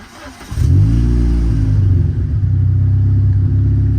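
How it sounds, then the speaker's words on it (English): A Renault Clio 3 RS 197 engine cranks and catches after a spark plug replacement, then settles into a loud, steady idle with a deep rumble. "first time starting the car after changing the spark plugs"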